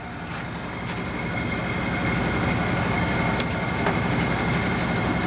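A Hardinge HLV-H precision toolroom lathe runs at high spindle speed with the carriage power-feeding, giving a continuous, even mechanical whir and hum close by, with a couple of faint ticks.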